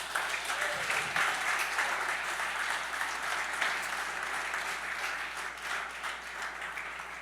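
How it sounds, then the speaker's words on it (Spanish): A church congregation bursts into strong, sustained applause that fills the hall, steady and dense from start to finish with no break. "Dele un fuerte aplauso al Señor."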